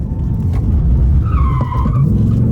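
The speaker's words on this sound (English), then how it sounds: "it's pretty cool for like downhill drifting. This handbrake helps a lot with that." A Ford Mustang Dark Horse drifting downhill on its handbrake, a loud, steady engine drone filling the clip while the tires skid and squeal in a rising, wavering streak partway through.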